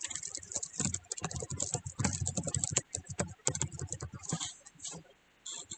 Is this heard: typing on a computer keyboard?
yes